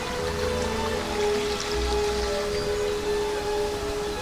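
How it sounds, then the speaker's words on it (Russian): Water runs through narrow stone channels in the Alhambra gardens, giving a soft, steady trickle and murmur with a faint tonal hum underneath and no voices. "Даже по лестнице садов сделаны такие желобки, течет вода. То есть ты всегда находишься в атмосфере такого журчания."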